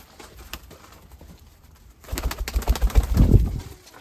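A Mykolaiv breed pigeon, a black white-tailed bird, makes close cooing and fluttering sounds in the last two seconds, after quiet handling noise.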